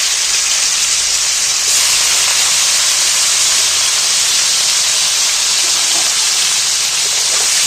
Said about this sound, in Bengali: কপিগুলো আমি একটু ভেজে তুলে নেব।